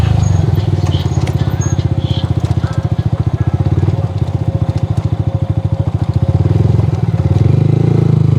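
Motorcycle being ridden, a loud, close, rapidly pulsing engine drone that holds steady for the whole stretch, with slight rises and dips in revs and some wind rush on top.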